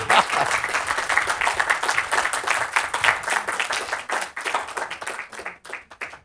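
Audience clapping at an activation event in Los Angeles, brisk applause from a crowd that stays lively, then thins into scattered individual claps toward the end.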